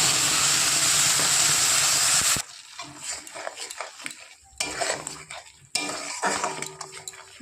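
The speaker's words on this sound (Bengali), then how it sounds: "এবার দিয়ে দেবো মশলার পেস্ট।" Hot oil with dry red chillies hisses loudly and steadily in a pan, then drops abruptly as spice paste goes in, followed by uneven stirring, scraping and bursts of sizzle close by, no voices.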